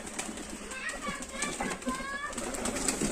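Teddy pigeons and their young in a loft give short, soft chirping calls that repeat close by. Someone talks over them throughout.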